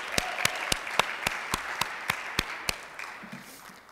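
A round of applause at a Rotary club meeting: sharp, evenly spaced hand claps ring out close by over a softer wash of clapping, thinning out toward the end.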